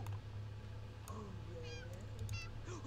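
A cat meows in The Sims 2 video game, a few short rising cries over a steady low game hum and background sounds.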